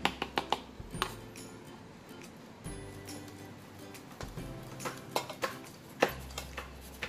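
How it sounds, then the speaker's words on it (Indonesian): Soft clinks and taps of a spoon in a bowl while stirring and sifting wheat flour with baking soda and baking powder, irregular light knocks, close and fairly quiet. "Diaduk dan diayak."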